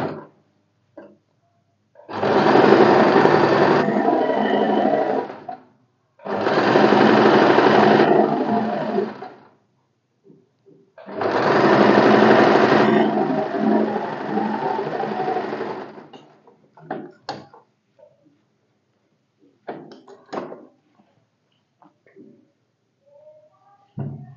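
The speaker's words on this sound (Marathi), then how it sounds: "हा एकच लेअर आहे, हा डबल फोल्ड नाही, सिंगल लेअर. स्टिच करून घ्यायचं." An electric sewing machine stitches a single layer of a katori blouse in three loud, steady whirring runs separated by pauses, followed by scattered light clicks and fabric handling.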